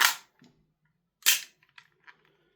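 An EMG Army Colt Defender airsoft gas blowback pistol running on green gas fires two sharp, loud cracks about a second apart, each followed by faint mechanical clicks and rattles in otherwise quiet surroundings.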